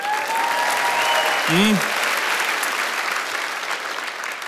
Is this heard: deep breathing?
no